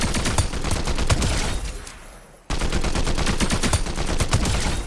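Full-auto combat assault rifle fire in a video game, a fast, loud, continuous burst of rapid shots that briefly stops, then resumes in another sustained stream with no talking over it.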